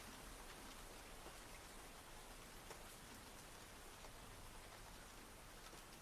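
Steady rain falling in a dense, even hiss of drops on surfaces, soft and continuous throughout with no breaks, voices or thunder.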